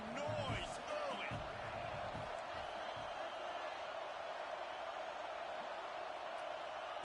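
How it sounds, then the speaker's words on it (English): A football stadium crowd at a Notre Dame versus Michigan game makes a steady, dense roar that fills the whole stretch, with a few brief thuds and shouts near the start. "This crowd bringing the energy and noise early."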